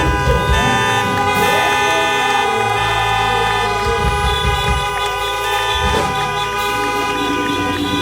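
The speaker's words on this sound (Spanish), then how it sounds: "toque la bocina, haga una bulla si está contento de estar juntos" Many car horns honk together at a hybrid church assembly, with overlapping sustained toots blaring loudly and continuously throughout.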